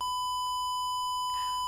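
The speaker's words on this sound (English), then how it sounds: "As for our friendly buzzer, let's make it sing by using the tone function." A small electronic buzzer from a space-themed adventure kit plays a steady high-pitched tone. It sounds continuously and alone for the whole moment, with a brief faint burst of noise near the end.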